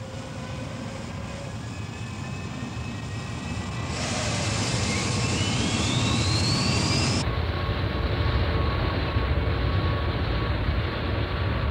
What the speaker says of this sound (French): préparez la mise à feu du moteur de rentrée